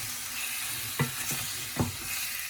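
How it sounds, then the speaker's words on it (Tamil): Beef sambal being stirred with a spoon over low heat, a faint continuous sizzle with two soft spoon scrapes standing out, no voices. "இப்போ ஒரு ஸ்பூன் ஒன்று எடுத்துட்டு இதை இப்படி மிக்ஸ் பண்ணி விட வேணும். அப்படியே லைட்டான ஒரு நெருப்பில் மிக்ஸ் பண்ணி விடணும்"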